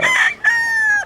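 A rooster crows once, close and loud, a raspy opening syllable breaking into a long sustained final note, kept among a few backyard chickens in rural South Cotabato, Philippines.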